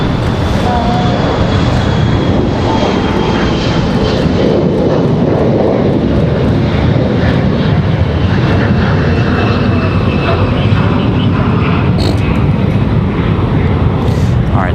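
A red, white and blue Southwest Airlines airliner passes at Raleigh-Durham International Airport, a loud, continuous roar of engines with broadband rumble that holds steady throughout, heard alone.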